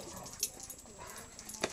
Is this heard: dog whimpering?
yes